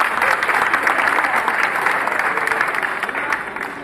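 An audience applauds a woman prize winner at a competitive exam quiz event in Amravati, a steady, dense burst of clapping from a crowd that holds at full strength throughout.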